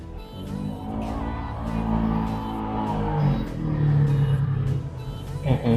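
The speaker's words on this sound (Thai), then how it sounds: "เสียงรถดังมากครับ" A loud car passes outside, its engine rising to a steady roar and then holding before easing off, heard from a distance through the room.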